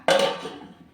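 A single metallic clank of a lid set onto a pot of simmering prawn gravy, sharp at the start and ringing briefly as it fades.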